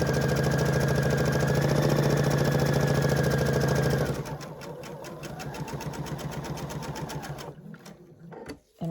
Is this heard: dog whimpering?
no